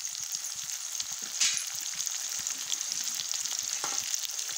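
Onions fry in a pan in a village-style kitchen with a bright, continuous sizzle and fine crackling, close up, plus occasional soft stirring scrapes and one brief louder hiss.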